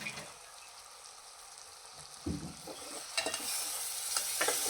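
Ground ginger, garlic, chili, coriander and tomato are sautéed in a pan for a Konkani chicken curry, a soft frying sizzle with scraping stirring strokes that grows louder and hissier in the final seconds.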